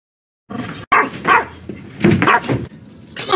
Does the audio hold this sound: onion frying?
no